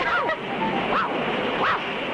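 Roaring river rapids and an approaching waterfall in an adventure cartoon, a steady loud rush of water with wind-like noise and faint tonal squeals on top.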